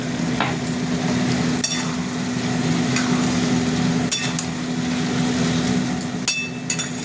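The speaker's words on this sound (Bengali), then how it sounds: "তেল কড়ায় লেগে যাচ্ছে বলে বারবার নাড়াতে হচ্ছে" Masala with Kashmiri chili powder sizzling and frying in oil in a wok while a spoon repeatedly scrapes and stirs, a steady crackle punctuated by sharp metallic scrapes.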